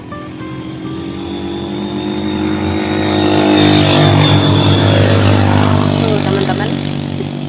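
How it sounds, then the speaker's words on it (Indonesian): Beside a big main road, a motorcycle engine rises from a distance, roars past loudly at close range and then fades away over several seconds. "Pinggir ini jalan raya besar. Tuh, banyak lihat nih ada motor lewat."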